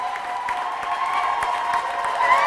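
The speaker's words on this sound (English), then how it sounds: "Crowd getting a little bit more vocal as we go." A swimming arena crowd at a summer games aquatics event keeps up a steady roar of applause and cheering that swells slightly toward the end.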